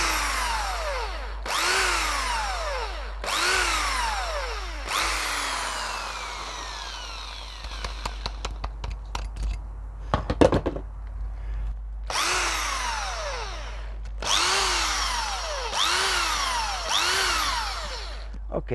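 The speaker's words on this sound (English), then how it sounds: "this is always difficult when you drill into wet wood" A power drill whines in repeated bursts, each rising and falling in pitch as it bites into wet hornbeam wood, with a pause of clunks and knocks midway.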